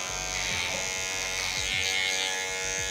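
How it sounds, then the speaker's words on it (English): Andis Slimline Pro wireless lithium hair clippers buzz steadily and close up during a skin fade haircut, with faint shifts in pitch as the blade moves through the hair, and no talking. "I'm using my Andis wireless prolithium clippers, the Slim Pro line"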